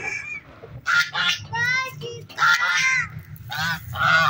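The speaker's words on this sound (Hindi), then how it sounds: "हम लोगों ने डाल दिए हैं अपनी बतखों को भी दाना और अपनी मुर्गियों को भी दाना और अपनी नैन्सी" Ducks quacking loudly and repeatedly nearby, a chorus of harsh, overlapping calls with brief gaps.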